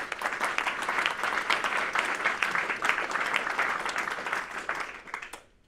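An audience applauds at a 2022 general assembly, a dense, steady burst of clapping from many hands lasting about five seconds before quickly dying away.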